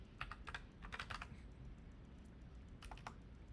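Quiet typing on a computer keyboard produces scattered clusters of soft key clicks at an uneven pace over faint room hum.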